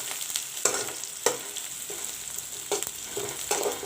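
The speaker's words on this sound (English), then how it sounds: "I will not fry the onions too brown." Onions frying with curry leaves in a pan for plain masoor dal give a close, even sizzle broken by several sharp stirring scrapes at irregular intervals, with no voices.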